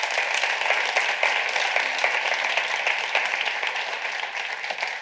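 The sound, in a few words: applause for a speaker coming up at a presentation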